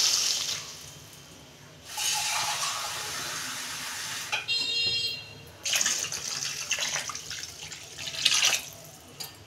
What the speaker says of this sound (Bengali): সবজিগুলো আমি পরিমাণ মতো জল দেবো।